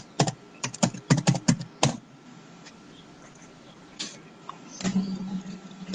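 Keys clatter on a computer keyboard in a quick burst of close, crisp clicks, then a pause with faint room noise and a few scattered taps, and a final short run of keystrokes near the end.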